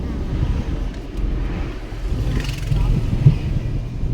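A car drives through city streets during a driving lesson, its engine a low steady rumble with wind noise and road hum, while an instructor talks over it.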